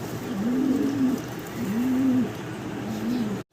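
Three low, soft coos from a large fancy male pigeon in a steady rhythm, heard close over a constant background hum.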